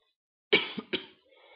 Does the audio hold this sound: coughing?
yes